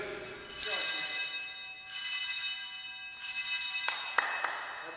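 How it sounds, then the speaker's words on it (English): Altar bells are rung at server practice in a church, three bright jingling bursts of tinkling peals with short pauses between them, close and clear, with no voices over them. "Don't be afraid of the bells."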